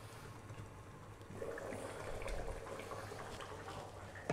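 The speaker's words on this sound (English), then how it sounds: "Before I open the lid, I'm just going to turn it down to a simmer now." A pot of traditional British lamb stew bubbling on the hob, giving a soft, steady wash of simmering liquid that grows slightly fuller partway through, close and low.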